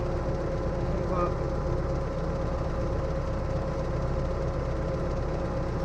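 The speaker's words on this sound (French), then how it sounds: "il y a le bruit du tracteur, c'est normal" A tractor engine runs steadily at a farm during crop sprayer preparation, a loud continuous low diesel drone with an even throb and no breaks.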